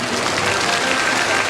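An audience at a large religious gathering breaks into dense, even applause, loud and continuous for a brief moment with no pauses.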